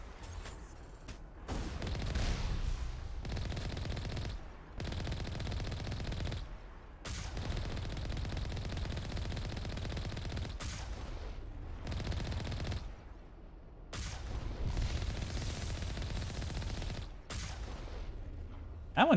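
Sustained bursts of rapid weapon fire in the Mass Effect video game, loud and dense, broken by brief pauses between volleys, with heavy low-end booms throughout.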